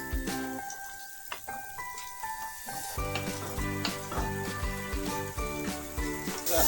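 Vegetables for egg chicken Hakka noodles fry in a pan, with a steady sizzle under loud background music carrying sustained tones and a beat.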